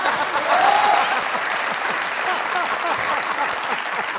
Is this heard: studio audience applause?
yes